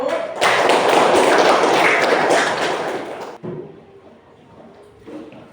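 A group in a classroom teaching session gets audience applause; dense clapping rises abruptly, holds steady for about three seconds, then cuts off to quieter room noise with faint murmuring.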